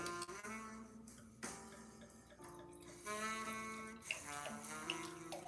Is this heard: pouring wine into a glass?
yes